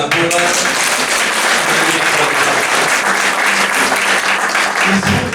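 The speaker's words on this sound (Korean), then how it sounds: "Нека да рукопляскаме на Бога." A church congregation gathered for a sermon by a visiting Korean pastor bursts into loud, sustained applause, many hands clapping in a thick, continuous roar that fills the room throughout.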